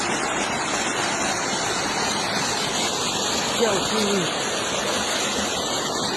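Water gushes steadily from a freshly drilled well in Deir Ballut village near the Syria–Turkey border, a loud, continuous roar like a rushing river that fills the whole scene without pause.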